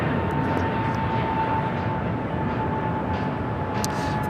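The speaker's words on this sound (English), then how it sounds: "That American flight just taking off, heading to Dallas-Fort Worth, Texas" An American Airlines A321neo jet taking off at LAX, heard as a steady, loud broadband engine roar with a faint high whine running throughout.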